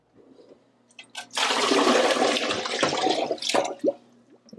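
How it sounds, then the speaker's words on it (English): Water rushes into a pressure canner being filled with a few inches of water for canning cranberry juice, a loud steady gushing stream after a quieter start, trailing off into a few drips at the end. "And now I'll fill a pressure canner up with 2 to 3 inches of water."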